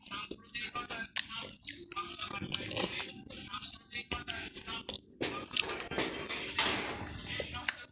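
A pet parrot called Mithu bites into watermelon, making wet crunching and pecking sounds in quick irregular bursts close by, mixed with a person talking softly.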